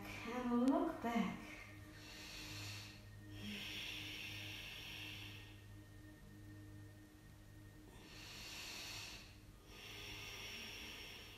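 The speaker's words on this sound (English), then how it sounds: "Keep practicing this breathing, make that sound." Audible ujjayi-style breathing during Ashtanga yoga practice, slow hissing inhales and exhales in long waves across several breaths, with a brief snort-like sound near the start.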